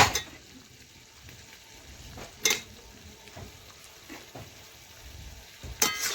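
Potatoes tumble into a pan of frying chicken and get stirred through, a soft sizzle running under scattered scrapes and a few sharp clinks of a utensil against the pan.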